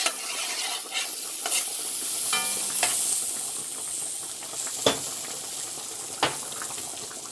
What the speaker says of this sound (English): We're going to let that fry, and then we will add our cabbages.